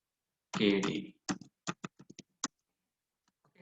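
Someone briefly speaks, then taps out a short string of about eight crisp keystrokes on a computer keyboard, close and clear in a quiet room.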